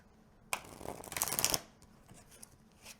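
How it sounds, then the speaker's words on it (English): A deck of Nine Realms Celestial Codex tarot cards is riffled and shuffled in one crisp, close burst of about a second, followed by faint handling ticks in a quiet room. "They're just in different places because I shuffled the cards."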